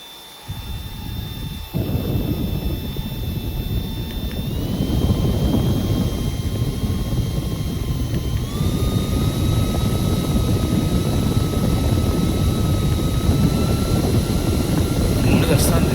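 A portable battery turbo fan clicked up to a higher speed gives a loud, close, jet-engine-like roar with whining tones that step up in pitch; a person talks over it.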